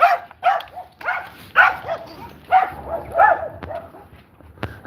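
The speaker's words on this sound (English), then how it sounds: "Daft dogs." Dogs bark and yip repeatedly outdoors by a cliff and promenade, several sharp, excited barks in quick irregular bursts, fairly close.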